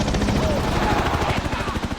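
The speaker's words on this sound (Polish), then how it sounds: "Helikopter!" A helicopter's rotor thump chops steadily through a dense, busy Call of Duty: Modern Warfare (2019) game soundscape, with gunfire-like bursts mixed in.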